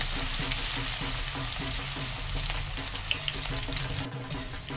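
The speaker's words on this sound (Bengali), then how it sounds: "ওই তেলটার মধ্যে আমি এই পেঁয়াজ কুচোনোটা দিয়ে দেব, দিয়ে একটু ভালো করে হালকা একটু নেড়ে নেব।" Chopped onions sizzle and fry steadily in hot oil while being stirred, with soft scraping and clinking in a continuous loud crackle, a dish for a Durga Puja Saptami meal.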